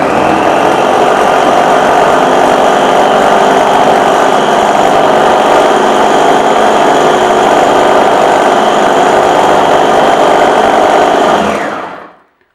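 A Vitek VT 7019 food chopper runs on its first speed with a loud, steady motor whine and buzz heard up close, holding constant for about eleven seconds before it shuts off and spins down.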